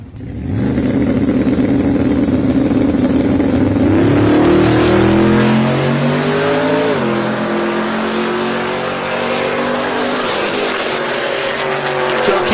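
A 1994 Ford F-150 and a 1963 Econoline gasser pickup launch side by side at a drag strip, loud engines roaring and climbing through gear changes with tire noise, heard from nearby with a faint announcer voice.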